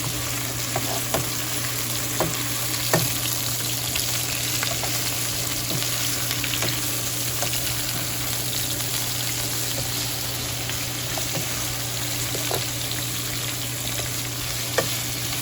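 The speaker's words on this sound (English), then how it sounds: "so let's just go ahead and add our peppers in there. We're gonna go ahead and stir." Peppers frying in a pan for lo mein give a dense, continuous sizzle with a few soft clicks of stirring, close and steady, with no talk.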